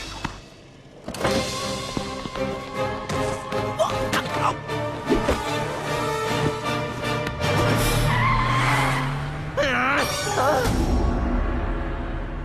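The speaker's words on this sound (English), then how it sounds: "I see this stretch limo round in the corner" A stretch limo whips around a street corner in a cartoon, with a rising tire-squeal skid over busy music and effects, loud and close.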